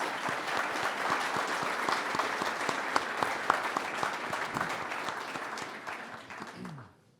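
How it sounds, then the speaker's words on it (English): An audience gives a sustained round of applause at a talk on zoning and cities, dense, steady clapping from many hands that holds level and then fades out at the end. "Let's give a round of applause."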